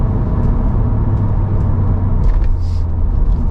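A Mercedes C43 AMG sedan's engine pulls at half throttle while not yet fully warm, a steady loud droning rumble inside the car that holds evenly throughout.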